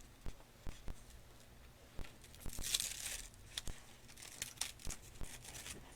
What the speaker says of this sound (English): And I peel the top back.